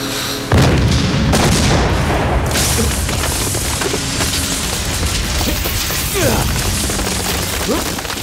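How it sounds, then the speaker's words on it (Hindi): A bomb detonates on a bridge in an action movie scene, setting off a loud, sudden boom that is followed by a long, rumbling crash of debris lasting several seconds, and a second blast comes near the end. "उस ब्रिज को बम से उड़ा दो।"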